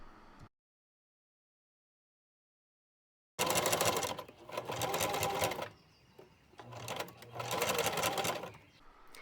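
Sewing machine stitching the folded sides of a fabric face mask flat, two bursts of fast rhythmic whirring after a long silent gap, close and steady.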